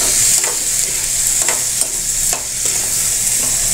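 Jackfruit sautéed with garlic and onion in a pan for ginataang langka, giving a steady loud sizzle broken by regular scrapes and stirs of a utensil, with no talking.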